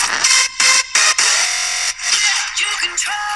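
A radio station imaging cut for a CHR format: bright, punchy processed bursts and swooshes with abrupt stops and restarts, loud and dense, short and alone.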